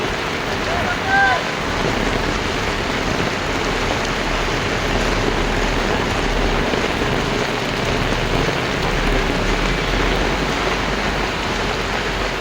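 Heavy monsoon rain pours down in Mumbai as a steady, dense hiss with rushing water, loud and continuous throughout, with faint voices briefly audible.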